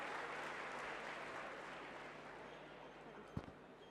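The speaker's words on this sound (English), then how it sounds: "please give big round of applause to our presenter as well" A crowd at a national conference of chartered accountancy students applauds, a dense, even wash of many hands clapping at a fairly distant, soft level, with one sharp thump near the end.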